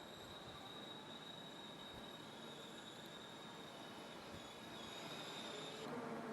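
A train at Purwokerto railway station in Central Java, with a steady rolling rumble and a high, sustained wheel squeal running throughout, fairly faint and distant, with no voices over it.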